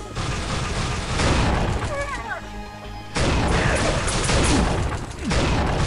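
Constant enemy gunfire in the video game Unreal 2, with bouncing blue projectiles, fills the scene with loud bursts and booms. A brief voice cuts in near the middle before the barrage surges again.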